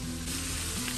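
Goat trotters (paya) sizzle in masala inside a pressure cooker, a dense, steady frying hiss with crackle, loud and close, under a low background hum.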